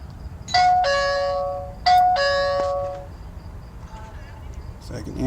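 A Foscam DBW5 video doorbell chime rings twice during an installation test, each a two-tone ding-dong sounding clear and close, followed by faint background noise and a brief voice.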